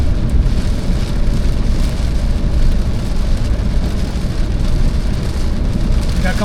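Heavy rain drums steadily on a moving car, a dense, loud, continuous wash of water noise over low road rumble, with no gaps throughout.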